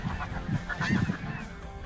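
A large flock of snow geese honks continuously, many overlapping calls blending into a noisy, busy chorus.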